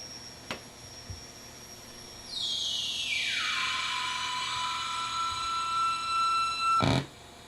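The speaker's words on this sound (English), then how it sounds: "you'll notice the sound of the reverb" A synthesizer played through a digital reverb pedal gives a bright, sustained tone that sweeps downward in pitch and settles into a long, smooth wash, ending in a short burst of noise.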